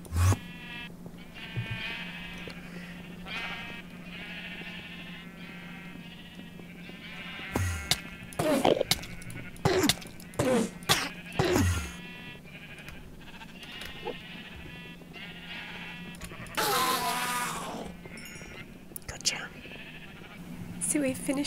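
Minecraft sheep bleat several times in short bursts over a steady low hum, with a person talking intermittently.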